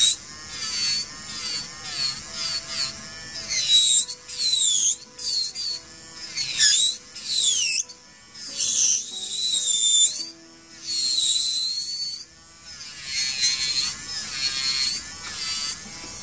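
An electric nail drill sands fiberglass gel nails with a high, whining motor hum that rises and falls in pitch in short repeated bursts, close and fairly loud throughout.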